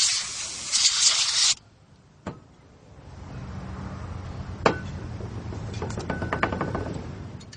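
A can of compressed air blasts dust out through a computer cooler's fins, giving a loud, close hiss for about a second and a half before cutting off. Quieter handling noise and small clicks follow.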